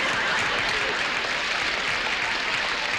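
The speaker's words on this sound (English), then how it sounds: "You guys are crazy, you'll clap for anything." A studio audience at a comedy variety show claps in a thick, continuous roar of applause from many hands, loud and even throughout with no gaps.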